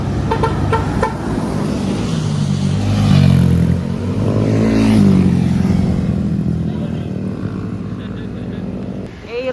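Motorcycle engines, including Honda PCX, Yamaha NMAX and Aerox scooters, rev and drone past on a road, rising and falling in pitch as they pass nearby.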